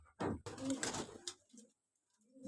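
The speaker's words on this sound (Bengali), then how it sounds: "আপনারা দেখরা খুব সুন্দর কবুতর, বিগ সাইজ" Large pigeons coo nearby in a few deep, throaty rolling calls with short pauses, and a quieter coo follows after a silent gap.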